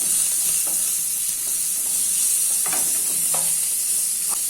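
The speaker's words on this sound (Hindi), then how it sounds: "अभी इसमें कटे हुए ऑनियन ऐड कर देते हैं और मिक्स कर लेते हैं।" Chopped onions sizzle loudly in a hot pan over cumin, steady and close, while a spoon stirs them with a few brief scraping knocks, with no voices.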